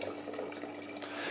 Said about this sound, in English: I'm gonna put the water in.